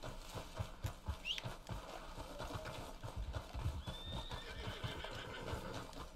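A horse in Red Dead Redemption 2 gives a shrill whinny while its hooves clip-clop steadily on the ground. The scene plays in quiet outdoor game ambience with no talking.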